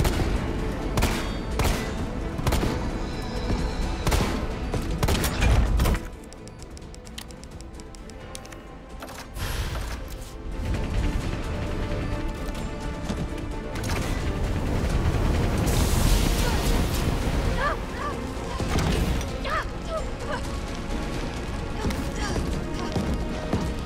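Gunfire in Resident Evil 3 Remake, aimed at an enemy's tank, comes as bursts of sharp shots and impacts amid loud game noise, with a voice talking at points among the shooting.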